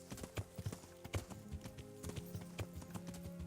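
Horse hooves clip-clop steadily in a video game, a quick repeating gait of hoof thuds laid over continuous tonal game music.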